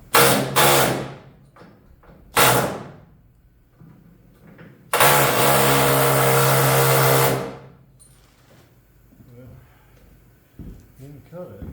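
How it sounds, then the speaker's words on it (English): An air chisel works on the rear windshield area of a 1976 Camaro, with loud sustained rattling bursts: two short ones early, another near 2.5 s, then a long blast of about two and a half seconds, with quieter handling noise between. "we're fixing to make some ugly noise. Try this air chisel."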